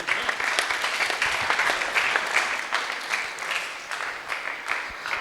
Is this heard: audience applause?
yes